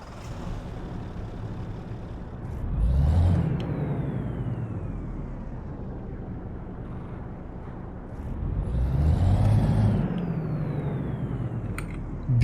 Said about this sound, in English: let's hear how this truck starts